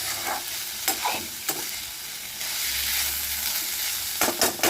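A spoon stirs salted usli masala with sprouted legumes in a pan, giving close, repeated scraping strokes over a soft sizzle, with a few sharper clinks against the pan.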